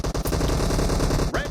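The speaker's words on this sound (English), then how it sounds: "They're practicing their SMGs and DMRs." Rapid bursts of SMG and DMR gunfire from a first-person team deathmatch video game, loud and close, rattling in quick strings that run almost continuously, with a short gap near the end.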